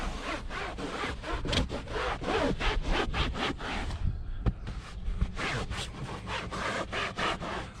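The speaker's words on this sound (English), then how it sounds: "I'm pushing down in with my microfiber to soak up that cleaner, and I'm going to keep lifting the stain up" A microfiber cloth scrubs and presses into cleaner on a salt water stain, giving a steady series of rhythmic rubbing and scratching strokes, close and fairly loud, with a brief lighter pause midway.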